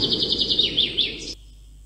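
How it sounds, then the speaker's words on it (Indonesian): Dove taking flight, a short burst of chirping calls over a soft fluttery rustle, close and moderately loud, ending abruptly into near silence. "Burung merpatinya dikeluarkan Nabi Nuh, lalu burung merpati terbang."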